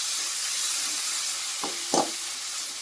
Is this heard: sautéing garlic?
yes